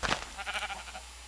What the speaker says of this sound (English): Damn it, sheep.